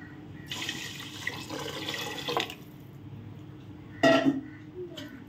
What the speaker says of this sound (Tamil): இந்த அரிசி வேகிறதுக்கு தேவையான அளவு தண்ணி வந்து இதில் ஊற்றிப்போம்.